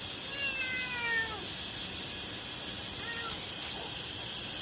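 A cat meows twice with faint, falling calls, the first a longer cry and the second shorter a few seconds later, over steady outdoor hiss at a remote highland hut with no talking.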